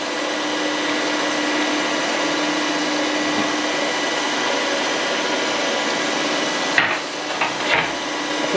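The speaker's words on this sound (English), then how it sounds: "So I'll turn the suds on, and that's drenching the stone and the crank with coolant." A crankshaft grinder runs with a steady, loud whirring hiss as coolant drenches the stone and the crank of a Land Rover Series One 1600cc engine, with a few brief knocks near the end.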